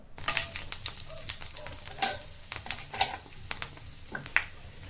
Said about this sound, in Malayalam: കടുക് പൊട്ടിക്കഴിഞ്ഞാൽ ഉടൻ തന്നെ അതിലേക്ക് കുറച്ച് അരി ഇട്ട് കൊടുക്കാം